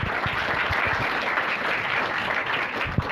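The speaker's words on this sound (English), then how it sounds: "Please give Lori a round of applause" Applause from an unconference audience for the outgoing MC, a continuous, even wash of many hands clapping at moderate loudness, with a sharp single clap near the end.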